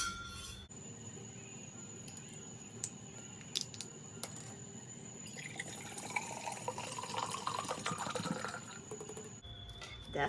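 Drinking water pours into a glass, a steady trickling fill that runs for several seconds with a few small clinks, close by and fairly quiet, with no talking.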